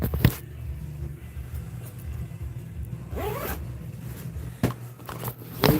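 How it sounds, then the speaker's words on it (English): A zipper being drawn shut on a compartment of a military rucksack, one quick rasping pull near the microphone amid handling rustle and low background hum, with no talking. "I'm gonna zip this shut real quick."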